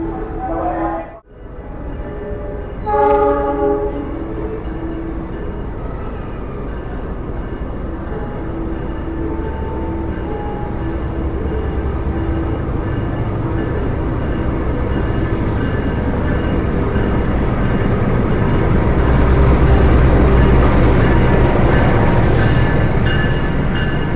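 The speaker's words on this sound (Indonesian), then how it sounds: "Jadi ini masih menunggu kereta api Wijaya Kusuma segera masuk di jalur 3" The Wijaya Kusuma passenger train rolls into a station on track 3, rumbling louder and nearer over time, with a brief horn-like tone early and steady wheel noise building.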